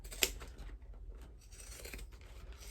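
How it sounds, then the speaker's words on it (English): Pinking shears cutting through fabric while trimming a seam allowance for a crossbody bag, with one sharp, close snip near the start followed by soft, quiet rustling. "I'm using pinking shears because it mimics snipping into the fabric"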